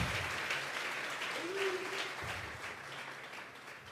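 A congregation at a live Spanish-language church service claps together as an offering of applause to God, a steady wash of many hands with a voice briefly rising through the middle.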